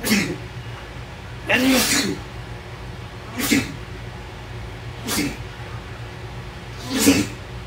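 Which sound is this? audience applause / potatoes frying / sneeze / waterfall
sneeze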